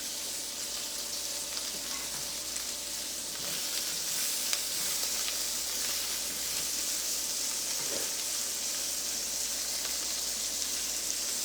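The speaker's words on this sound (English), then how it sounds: "I'm just making a steak on the stovetop, guys. I'm using a cast iron pan." Steak sizzles and fries steadily in a cast iron pan on a stovetop, a dense, continuous hiss heard close with no talking.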